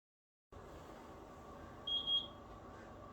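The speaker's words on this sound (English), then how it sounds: "Right then, the oven's beeping." A short pair of high electronic beeps from an oven timer, sounding over a steady background hum, with no talking.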